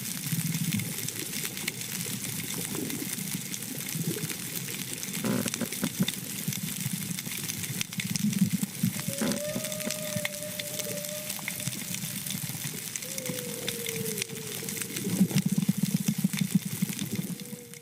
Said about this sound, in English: This was the sound of a healthy coral reef, alive with crackles, pops, clicks, and low-frequency hums made by fish, shrimp, and other marine organisms.